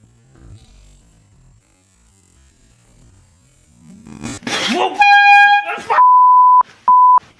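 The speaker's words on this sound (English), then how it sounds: "This is a air horn." An air horn gives a loud, piercing blast followed by two shorter honks, preceded by a sharp vocal burst and quiet background noise.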